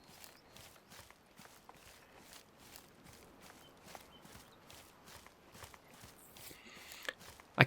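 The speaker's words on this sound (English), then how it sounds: "I think it's just our footsteps through the bush" Footsteps crunch and rustle through brush in the hunting game Way of the Hunter, a steady walking rhythm of soft, close steps with a sharper crack at the very end.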